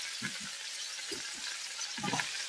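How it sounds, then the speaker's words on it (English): Food sizzles steadily in a hot pan, a bright crackling hiss, with a few soft clinks and stirring knocks near the pan. "You hear that sizzle?"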